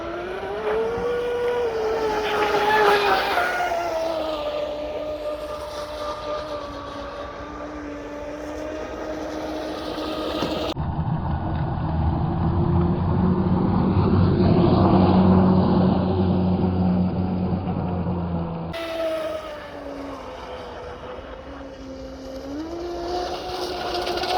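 A Traxxas M41 RC speedboat whines at high pitch as it speeds across open water, its motor note rising and falling as it passes, with a rougher, lower-toned stretch midway.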